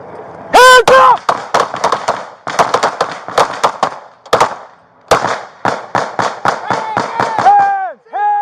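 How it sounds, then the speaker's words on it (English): Rapid bursts of gunfire during a police shooting, dozens of sharp, loud cracks in tight volleys separated by brief pauses, with a shouting voice cutting through near the end. "Shots fired!"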